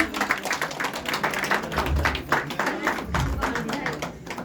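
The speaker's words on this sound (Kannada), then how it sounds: "ಇವರೆಲ್ಲರಿಗೂ ಜೋರಾದ ಚಪ್ಪಾಳೆ ರೆಕಗ್ನಿಷನ್ ಇರಲೇಬೇಕು" An audience at a stage ceremony claps steadily, a fairly close patter of many hands holding an even rhythm for several seconds with faint voices underneath.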